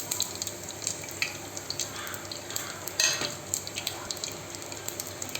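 Tempering seeds of mustard, cumin, urad dal and chana dal frying in hot oil crackle and sizzle steadily up close, with sharp pops and light utensil clinks throughout.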